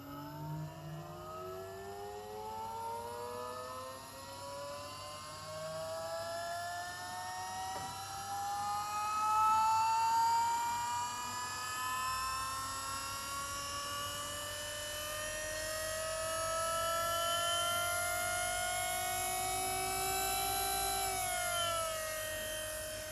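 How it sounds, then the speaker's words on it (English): Electric fuel pumps in a turbo LS-powered 4x4 Hilux whine steadily after the ignition is switched on, a high, rising whir holding close and constant for over twenty seconds with no talking. "I think the fuel pumps are still pretty noisy"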